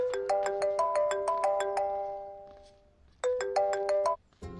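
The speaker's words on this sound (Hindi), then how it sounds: "आपको किसी का फोन आ रहा है।" A phone rings close and loud with a bright electronic ringtone: a quick run of repeated melodic tones, a pause, then a second burst that cuts off abruptly, with no speech.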